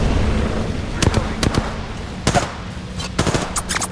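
Bursts of rapid gunfire crack through a firefight in Apex Legends, clusters of sharp shots spaced by short gaps over a low background rumble, loud and close.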